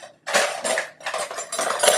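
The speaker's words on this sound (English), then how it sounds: "so we'll get a whisk" A whisk clatters rapidly against a bowl while beating a single egg, giving bursts of dense metallic tapping separated by short pauses. The sound is close and fairly quiet, and no one speaks.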